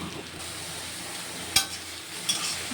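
Yardlong beans stirred in a pan after cumin seeds have been fried in oil, giving a soft steady sizzle with a couple of sharp spatula scrapes against the pan.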